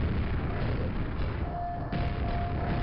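Enemies blowing up in the video game Quake, a dense, steady roar of rumbling blasts and noisy game effects that stays loud throughout with no clear gaps.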